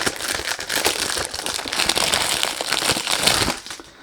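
Packaging for an Emanuel Ungaro Intense for Him 100ml eau de parfum crinkles and crackles continuously at close range, a busy, dense rustling of wrapping being handled during unboxing, with no talk over it.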